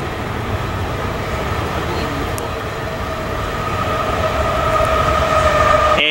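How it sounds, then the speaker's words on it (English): A double-stack freight train rolls past a station in Ontario, California, a loud continuous rumble with steady wheel noise and a faint whine building toward the end. "Shitload of pace from stack train on this one."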